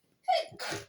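A single sharp sneeze, a quick intake followed by a loud explosive burst, close and alone.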